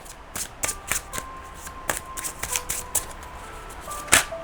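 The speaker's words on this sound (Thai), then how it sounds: "ทีนี้เนี่ยพี่ขอ เปิดไพ่นะคะให้อีก3ใบ" Tarot cards are drawn and laid out one by one, giving a series of crisp, separate snaps and soft slaps of card on a surface, close by and fairly quiet, with no voice.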